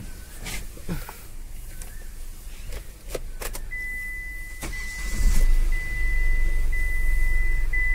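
A Hyundai i10 engine, freshly fitted with a new clutch, starts up and settles into a steady idle, with clicks and clunks of gear shifting and a brief electronic tone ringing out near the car.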